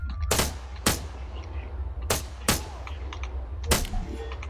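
Sharp single rifle shots ring out in ARMA 3 at targets on a range, five loud cracks spaced unevenly, in pairs and singles, each with a short echoing tail over a low steady hum.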